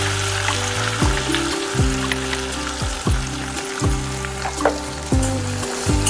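Mustard seeds, cumin, curry leaves and ground raw coconut paste frying in hot oil in a kadhai, a loud crackling sizzle punctuated by repeated scraping stirs of a spatula at a steady rhythm, close and without speech.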